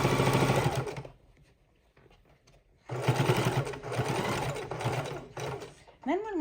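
A sewing machine stitching a fabric soup bowl runs in two loud bursts of rapid whirring separated by a quiet pause, close up and steady, with a brief rising tone at the end.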